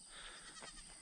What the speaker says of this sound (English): I haven't introduced y'all to the goats on here yet, but here they are.